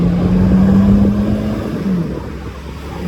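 BMW M3 tuned to about 720 brake horsepower accelerating hard, its engine roaring loud and close with a steady tone that rises and then drops at a gearshift, with rough crackle underneath.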